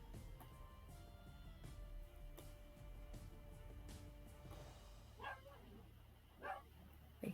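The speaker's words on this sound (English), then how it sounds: "I hear my dog barking" A dog barks indoors in a few short, faint yips toward the end, heard at a distance over low room noise.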